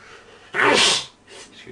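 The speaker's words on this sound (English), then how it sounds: "I had a deep sneeze." A single deep, forceful sneeze bursts out close to the microphone, loud and lasting about half a second, followed by a softer breathy exhale.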